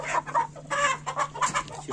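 Two farmyard roosters cluck in short, close, overlapping bursts, a quick series of throaty calls over a faint background hum.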